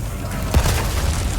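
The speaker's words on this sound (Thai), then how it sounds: "ระเบิดอีกแล้วระเบิด" A single deep explosion in Resident Evil 4 booms once, a short low thud rising out of steady background rumble and quickly fading.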